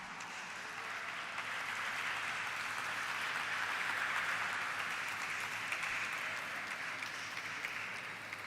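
Steady applause from a crowd, sustained clapping at an even level throughout, moderately distant.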